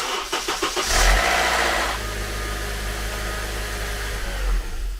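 An Infiniti Q50 that has sat unused for a week cranks with a few rapid chugs, then fires and settles into a steady idle with a metallic rattle, close and loud.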